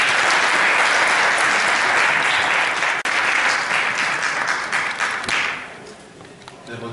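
An indoor audience at an academy association training seminar applauds a company CEO, a loud sustained wash of many hands clapping that tapers off toward the end, close and without talk.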